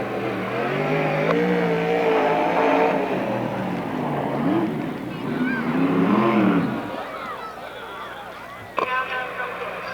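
Sprint cars roar through turns 1 and 2 at a NARC sprint car race in Marysville, California, a loud sustained engine drone that rises and falls as they pass, with an announcer talking over it throughout.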